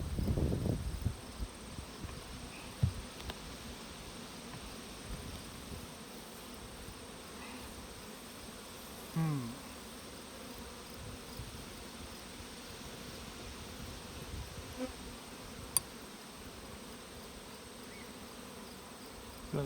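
Faint, steady buzzing of many honey bees hums close by at an open hive, with a few louder passes of single bees and occasional soft knocks of frames.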